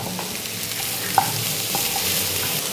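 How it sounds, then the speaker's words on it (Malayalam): Chopped capsicum and onion fry in a pan, with a steady soft sizzle, a sharp metallic clink of the stirring utensil, and a couple of light scrapes, close up and without talk. "ഇനി ഇതൊന്ന് ഫ്രൈ ആക്കി എടുക്കുക."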